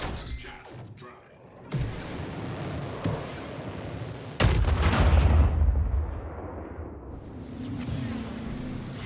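Missiles strike and explode in a combat game, with a series of sharp blasts and heavy booms, one especially loud burst followed by a lingering rumble.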